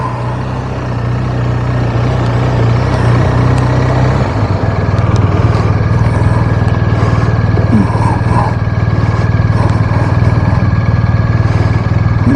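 A BMW R1250RT motorcycle engine runs with a steady, close, low rumble, heavy and continuous over about twelve seconds, with faint wind noise on top.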